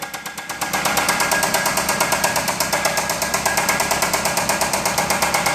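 A Dodge 2.4L engine runs loud and close, its rapid, evenly spaced knocking beating like a hammering pulse over a dense mechanical roar, with nobody speaking.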